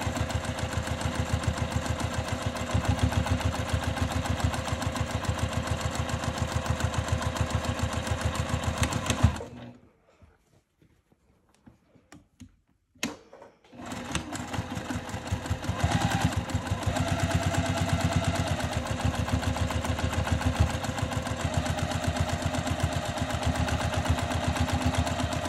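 A sewing machine stitches a seam on a crossbody bag, running in a steady rapid mechanical chatter, stopping for a few seconds of near silence midway, then resuming at the same even pace.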